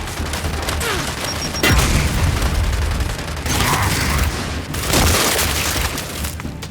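Grenade explosion amid Gears 5 combat, with several heavy booming blasts and rumbling bursts spread through a dense, loud battle mix.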